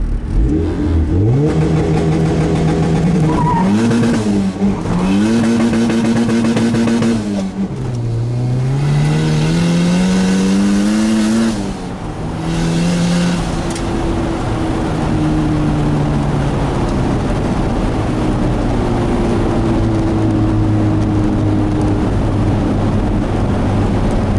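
A turbocharged B20 car engine revs hard and climbs through first and second gear, loud and close from inside the cabin, with rising pitch sweeps, brief drops at each shift and a sustained higher drone afterward.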